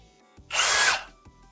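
A PROFI-TEC PPCD16020 UltraCore cordless drill-driver whirs in one short burst of about half a second, loud and close, between quiet moments.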